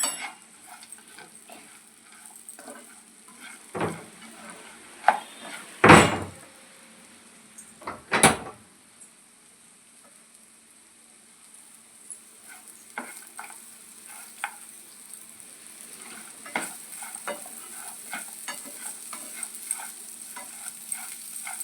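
Ingredients for coconut chutney fry on a medium flame with a soft steady sizzle, broken by occasional stirring scrapes and two sharp loud knocks against the pan.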